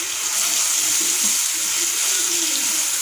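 Sliced onions and ginger-garlic paste sizzle in a pan, a steady hiss of frying close by that carries on without a break and without voices.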